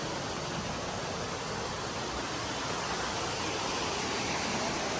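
A mountain stream on a trail in Nepal rushes in a steady, broadband hiss that stays constant and even throughout, with no voices.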